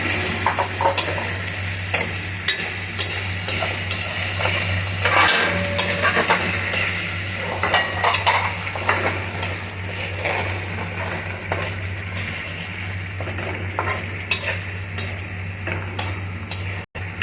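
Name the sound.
sautéing tomatoes in oil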